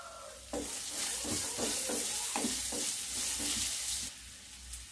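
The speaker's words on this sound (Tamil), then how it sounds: "மஞ்சள் பொடி இப்பவே சேர்த்துக்கலாம் வெங்காயத்தோடைய. எண்ணெயிலே நல்லா வதங்கிடணும்." Onions sizzle and fry in hot oil with turmeric powder for Tamil tomato rice, a steady close hiss broken by a run of rhythmic scraping stirs in the pan, with no talking.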